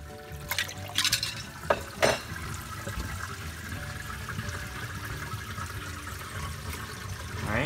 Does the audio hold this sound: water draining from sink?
yes